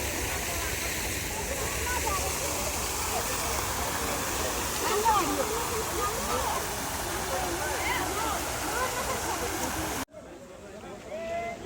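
Steady rushing water, like a waterfall or fast stream, at Lalbagh garden in Bangalore fills most of the recording, with faint voices underneath; it cuts abruptly near the end to a quieter scene.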